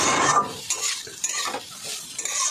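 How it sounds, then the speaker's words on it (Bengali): Chopped carrots and onion going into a pan and being stirred: a brief burst of sizzling, then a few clinks and scrapes of a utensil against the pan, close up and with no voices. "এই যে কুচানো গাজরগুলো দিয়ে দিচ্ছি, ছোট্ট পেঁয়াজ কুচোও দিয়েছি"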